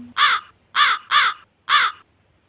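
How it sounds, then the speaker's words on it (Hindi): A cartoon crow caws four times in quick succession, harsh and loud, with short gaps between the calls and no other sound around them. "तभी उसे कालू कौवे की आवाज सुनाई दी।"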